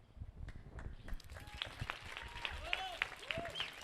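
Scattered clapping from a small audience gathers into steady applause, with a few whistles or squeaks rising over the clatter.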